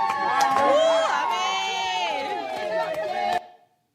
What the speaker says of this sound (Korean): 어느 분들은 집에서 50m, 100m 떨어진 곳에서부터 함성과 함께 노래를 부르시며 저희들을 환대해 주셨습니다